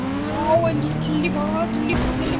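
A car races at high speed in the Indian Bike 3D video game, its engine droning with a rising pitch, then cutting out briefly before surging back, loud and close with a voice over it.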